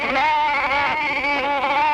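A goat bleats loudly and continuously among a grazing herd, a wavering, quavering cry held up close without pause, alone with no talk.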